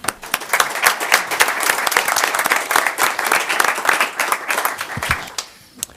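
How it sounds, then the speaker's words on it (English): An audience at a municipal council meeting applauds after a vote, a dense burst of many hands clapping that holds steady for several seconds, then thins out and fades near the end. "I think we can clap for that."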